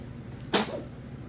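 A baby gives a single sudden sneeze, a sharp high burst loud and close in an otherwise quiet room.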